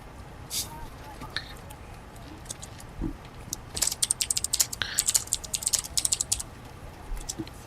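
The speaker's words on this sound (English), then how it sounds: "I have a key on my keyboard that's designated calculator and I just bumped it" Typing on a computer keyboard while running a flight simulator, a few scattered clicks and then a quick run of light keystrokes, fairly quiet and close.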